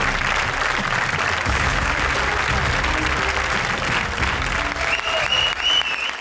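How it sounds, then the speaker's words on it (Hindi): A studio audience at a Hindi comedy show applauds steadily and loudly throughout, a dense continuous wash of clapping with a brief tonal accent near the end. "तालियां हमारी टॉप स्कोरर जोड़ी के लिए।"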